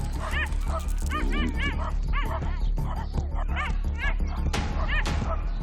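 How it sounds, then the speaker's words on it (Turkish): Several dogs bark, yip and whimper continuously during a hunt in Sumatra, loud and close, with overlapping excited calls and steady background noise throughout. "Her türlü köpek sesini duyuyorum."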